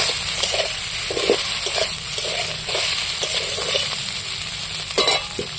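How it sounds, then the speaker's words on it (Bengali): Paneer pieces frying in hot oil, a loud, steady close sizzle with scattered clinks and scrapes as they are gently stirred. "তেল গরম হয়ে গেছে পনিরগুলো তুলে দিচ্ছি এবার তেলের মধ্যে আমি হালকা করে নেড়ে চেড়ে নিই"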